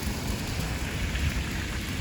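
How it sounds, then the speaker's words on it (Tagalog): Steady rain mixed with falling ice patters on an umbrella during a snowy winter morning in Trento, Italy, a dense continuous hiss with low drumming, no voices. "Ulan na may kasama ang yelo."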